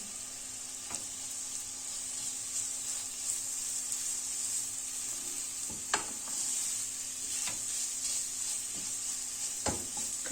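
Minced beef frying with onion in a pan for a Turkish vermicelli dish, a steady close sizzle with occasional stirring scrapes and clicks, no talking.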